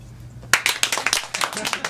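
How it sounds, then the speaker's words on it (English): Women in a stand-up comedy audience break into clapping, a burst of many hands starting abruptly and continuing steadily with uneven rhythm, moderately loud with a faint low hum beneath. "clap if you're a woman."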